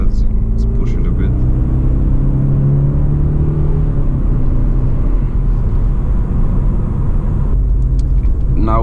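A 2020 BMW 430i xDrive with the B48 four-cylinder accelerates hard, a loud in-cabin engine drone climbing steadily in pitch, then easing and climbing again under road rumble.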